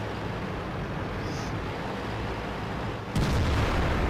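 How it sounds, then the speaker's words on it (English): A tank cannon blast in World of Tanks: steady engine rumble, then a single loud, deep firing boom near the end that lingers as heavy low noise. "that's a 6-pound gun, which means he can fire every few seconds"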